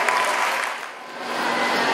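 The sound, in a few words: audience applause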